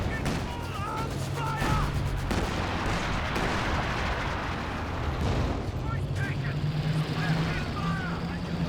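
Panzer artillery from Company of Heroes 2 booms and rumbles in a dense, continuous barrage of battlefield explosions and gunfire, loud throughout, with a voice talking over it.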